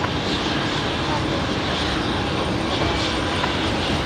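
A Velocity airliner that has just landed from Sydney on the left runway at Brisbane Airport at night: a steady, broad jet engine rumble carries at a distance with no clear change, and a voice talks over it.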